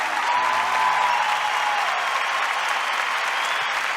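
Audience applause from a seated crowd, a dense, steady wash of clapping that holds at an even loudness for the whole stretch, close and full with no voices on top.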